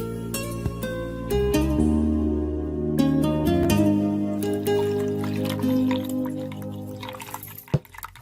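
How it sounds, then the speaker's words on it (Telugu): Water pours into a tender coconut with a continuous liquid trickle and gurgle, mixed with dripping and a few sharp clicks, heard up close against a background of sustained tonal music. "కొబ్బరి బొండాలో నీళ్లు పోస్తున్నావేంట్రా?"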